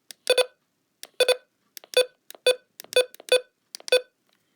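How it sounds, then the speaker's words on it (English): Button beeps from a Midland HH54 weather radio, eight short electronic beeps in loose pairs and singles spaced across a few seconds, clear and close with no other sound. "I mean, button beeps,"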